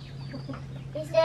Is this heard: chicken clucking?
yes